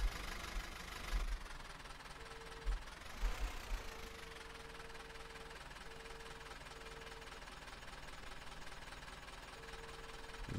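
A tractor engine idles in the farming game Landwirtschafts-Simulator 17 with a faint, steady low chug and a few brief knocking bursts and intermittent tones, quiet throughout with no voices.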